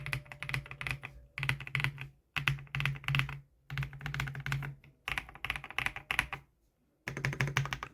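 A mechanical keyboard with poppy, creamy switches is typed on in quick bursts of soft thocky keystrokes, with brief silent pauses between them, close and quiet.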